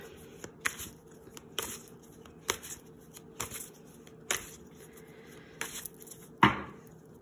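Crisp riffling bursts of tarot cards being shuffled, repeating roughly every second, close and clear, ending with a louder final snap of the deck.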